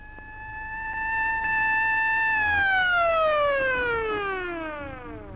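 The siren of a 13-tonne AMX armoured tank, being tested, holds a loud, steady high wail for a couple of seconds, then slowly winds down in pitch as it fades, with no one speaking.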